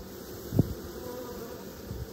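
Honeybees fanning at a hive make a faint, steady insect hum with a soft thud near the start, heard alone.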